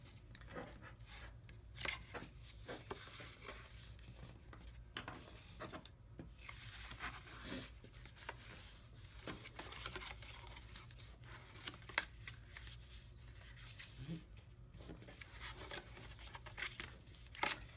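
Paper sides of a handmade holiday envelope fold down with soft rustling, creasing and rubbing, quiet and close with scattered small crinkles and scrapes, no talking.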